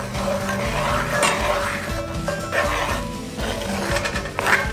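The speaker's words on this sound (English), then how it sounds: "Okay, and further deglaze it. I mixed up a little bit of beef bouillon here." Red wine, a cheap Shiraz, and mixed beef bouillon poured into a hot pan to deglaze it, giving a steady close sizzle with stirring and clinks of utensil against the pan.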